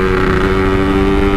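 A stock Yamaha RX King two-stroke motorcycle with a 26 mm carburettor and unported engine drones loud and close at steady high speed, with a constant buzzing whine and rushing wind, no voices.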